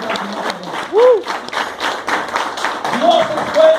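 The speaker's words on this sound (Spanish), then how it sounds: "Denle un aplauso fuerte al Señor." A church congregation claps and applauds steadily while a preacher keeps speaking in Spanish over it, with a few brief vocal exclamations rising above the clapping.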